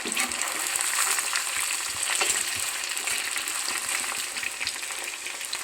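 Chicken pieces fry in hot oil over a high flame for a chicken gravy, a dense, steady sizzle throughout with scraping stirs of a spoon, and no talking.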